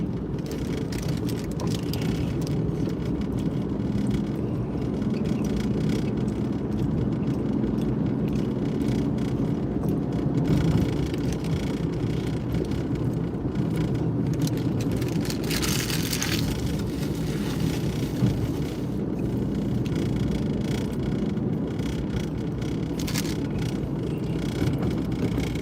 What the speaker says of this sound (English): Look at all the cars.